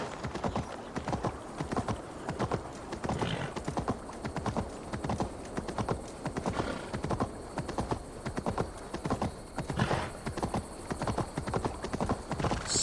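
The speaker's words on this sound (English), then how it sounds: "Stop that horse!" A horse gallops in the Assassin's Creed Valhalla video game: steady, rapid hoofbeat clip-clop runs throughout at close range, with occasional whinnies and snorts.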